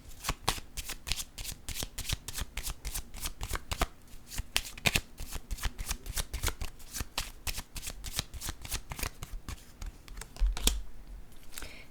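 Fortune-telling cards being shuffled and drawn by hand, a rapid run of crisp riffling snaps and flicks close up, with no talking.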